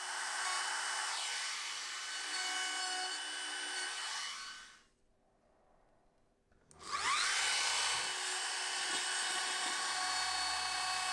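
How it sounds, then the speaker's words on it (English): Router with a straight bit cutting a wooden back panel, a loud high-pitched whine that stops and falls silent for about two seconds, then spins back up to full speed. "I'm using a router with a straight bit to remove some of the material from the inside of the back panel"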